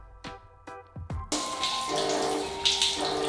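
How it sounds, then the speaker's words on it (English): Cold shower water begins with a few separate drips, then bursts into a loud, steady rushing spray that keeps running close by. "So on day 6, I attempted my first minute in the cold shower."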